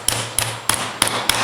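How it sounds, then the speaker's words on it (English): A hammer taps a locking tab down on a GM R4 air-conditioning compressor at a workbench: five sharp, evenly spaced metallic knocks about a third of a second apart, close and moderately loud over a steady low hum. "Our final step is just to take a hammer"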